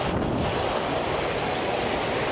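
River water rushes steadily in an outdoor wild camping spot in Amadeo, Cavite, a dense continuous wash that fills the scene with no voices.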